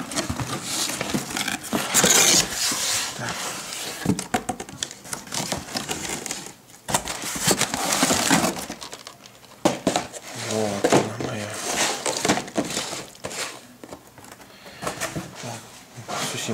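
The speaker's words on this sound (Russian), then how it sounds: "Давайте открывать с вами будем посылочку." A parcel holding a Miniart Su-76 model kit is opened up close, with rustling, crinkling packaging and tapping, handling clatter in uneven bursts. Someone talks over much of the unwrapping.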